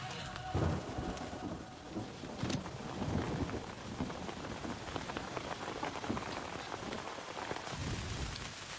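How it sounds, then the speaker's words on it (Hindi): Steady rain pattering on a surface, a dense continuous hiss with occasional louder drops and thumps, no talking. "यहाँ पर बारिश हो रही है"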